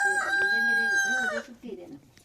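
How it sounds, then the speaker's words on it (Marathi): A rooster crows one long, loud call close by outdoors, followed by softer clucking and faint murmuring voices as it fades. "कोंबड्याने चांगली बांग दिलेली आहे"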